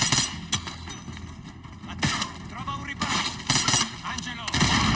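Gunfire rings out in Call of Duty Black Ops 6, with loud sharp shots in irregular bursts and some rapid strings of fire over a noisy battle backdrop.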